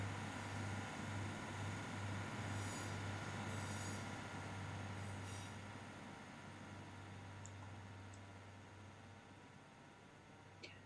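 Train running through Bath Spa station on the Great Western Main Line, a steady rumble with a low continuous drone and faint wheel squeal, alone without talk, slowly fading.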